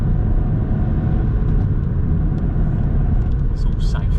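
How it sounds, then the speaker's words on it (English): Car engine revving hard while accelerating onto a 40 road on a driving test route in Worthing, a loud, steady rumble close by the whole way through, with a few faint higher sounds near the end. "just get on that gas, build up that speed, get the revs up in the engine"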